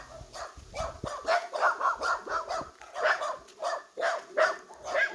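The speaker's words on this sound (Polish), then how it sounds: "Jeszcze w tym budynku szczekanie, prawda?" Dogs bark repeatedly inside a building in a village, a steady run of sharp mid-distance barks with some yips and whimpers, and faint human voices now and then.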